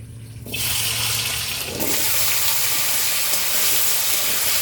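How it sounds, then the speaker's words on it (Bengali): Taro corms (gathi kochu) drop into hot oil in a pan, followed by a loud, steady broadband sizzle and hiss that swells and holds close up with no voices. "তেল গরম হয়ে গেছে গাঠিগুলো দিয়ে দিচ্ছি"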